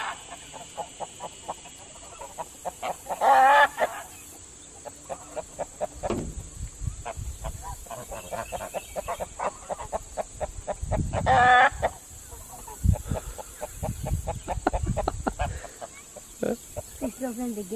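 Farm birds call repeatedly in a pen, with loud honking and clucking bursts and a crowing-like cry over near, restless activity, while people talk now and then.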